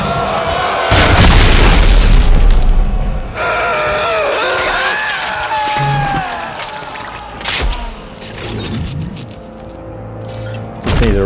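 A loud, booming explosion in the sci-fi survival game Dead Space 3, a heavy blast with rumbling tail, followed by harsh creature shrieks and game effects in a chaotic co-op fight.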